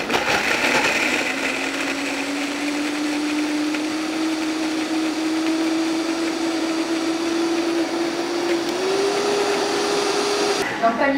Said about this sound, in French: Il faut bien mixer avant.